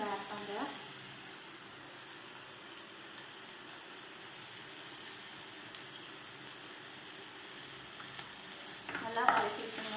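Ingredients for vada curry sauté in a pan with salt just added, a quiet continuous sizzle with a few soft stirring knocks and clinks, including a brief cluster near the end.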